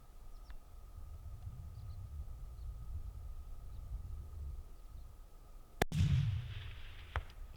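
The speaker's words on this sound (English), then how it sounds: "Good shot, Shane." A single sharp rifle shot cracks out during a caribou hunt on the open Alaskan tundra along the Haul Road, a loud near blast with a rumbling tail that fades over a second, set against a steady low wind.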